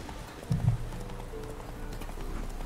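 A horse's hooves clip-clop softly in The Witcher 3: Wild Hunt, a quick cluster of hoof strikes standing out briefly over a faint, steady game background.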